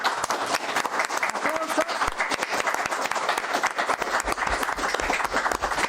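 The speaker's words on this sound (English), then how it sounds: "That applause was for Leslie" Audience applause in a hall, steady dense clapping throughout at moderate level with crowd noise and a faint voice mixed in.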